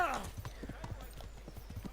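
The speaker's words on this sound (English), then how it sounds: "why they called the horse Pebbles" Horse hooves clip-clop at a steady trotting rhythm in the Kingdom Come: Deliverance video game, a run of evenly spaced thuds close by, with a whinny-like tone at the start and someone talking over them.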